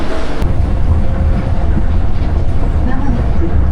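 Train arriving at a station in Japan, a loud continuous rumble of wheels and carriages close by, steady throughout, with some indistinct talk mixed in.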